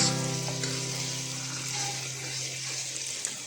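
Masala frying in oil in a pan with coriander powder being stirred in, a soft continuous sizzle with a low steady hum beneath and a few faint clicks of the spoon.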